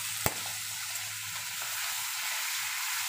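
Butter, sliced garlic and shrimp sautéing in a pan, a steady close sizzle and crackle with one brief sharp clink near the start.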